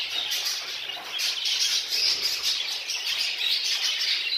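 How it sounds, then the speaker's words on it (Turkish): A breeding room full of Texas show jumbo budgerigars fills with dense, constant chirping and chattering from many birds at once, loud and close with no voices. "Show Jumbo tarzında kuşlar üretiyoruz."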